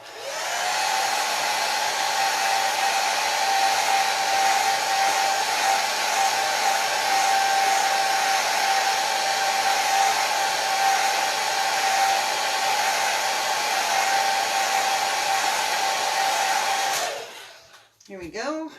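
A hair dryer blows steadily and loudly at close range for about seventeen seconds while drying a paint brush, holding a constant whine before cutting off abruptly near the end.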